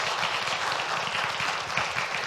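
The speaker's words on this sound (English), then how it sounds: "Let's give her a round of applause as the Youth Racial Equity Coordinator." An audience claps for a youth racial equity coordinator at a presentation, a dense, continuous wash of many hands clapping at once, steady and fairly even throughout, with no talking on top.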